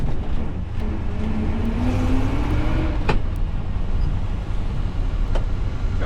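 A 1979 Jeep Cherokee Chief with its floors removed drives along, its engine and road noise a constant loud rumble with a few sharp clunks.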